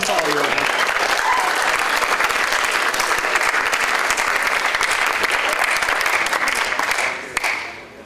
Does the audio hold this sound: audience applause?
yes